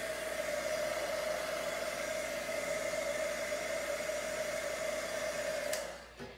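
A hair dryer blows to dry watercolour paint on a card, a steady whooshing hum held at constant level, close and alone, before it switches off and winds down.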